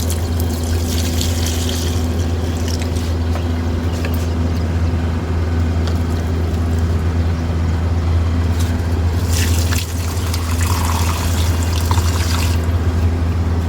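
Plants being watered at home, water pouring steadily onto dry soil with a continuous splashing trickle over a low steady hum, loud and close.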